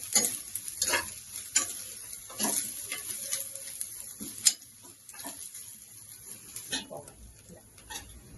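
Green chillies and garlic frying in a pan for a ridge gourd chutney, with a low sizzle broken by intermittent scraping stir strokes and clinks, close and fairly quiet, with a few faint voice sounds.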